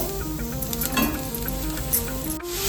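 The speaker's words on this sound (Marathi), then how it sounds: "गुळ वितळेपर्यंत आपण मिक्स करून घेऊया" Jaggery and grated coconut stirred in ghee in a kadai as the jaggery melts, with a close, steady sizzle and soft scraping stirs, plus occasional light clinks of a spoon against the pan.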